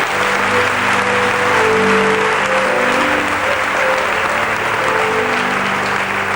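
A church congregation applauding loudly and continuously, a dense wash of clapping hands filling the room with a faint murmur of voices beneath, steady from start to finish.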